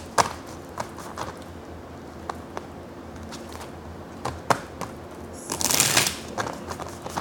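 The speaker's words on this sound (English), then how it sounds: "let's pull some more cards" Tarot cards are shuffled and pulled, with scattered soft riffles and taps rising to a denser, louder shuffle near the end, close and quiet, with no speech.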